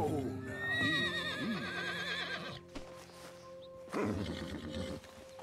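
Horse in the open-world western game Red Dead Redemption 2 gives loud, wavering whinnies and snorts in the first half, then another agitated burst around four seconds, with background game sounds and someone talking softly at times.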